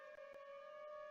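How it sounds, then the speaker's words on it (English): A steady wailing civil defense siren tone in a Minecraft tornado scenario holds a constant pitch throughout, rich with harmonics, sounding somewhat distant and processed. "Wait, is that the real siren?"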